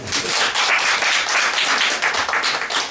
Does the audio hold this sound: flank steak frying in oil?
no